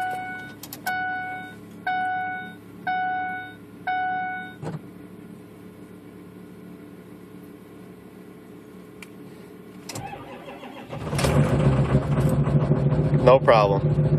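A Ford 6.0 Powerstroke diesel truck, unplugged on a 17-degree morning, sounds a few evenly spaced dash chimes, sits quiet for several seconds, then cranks and fires into a loud, rough diesel idle.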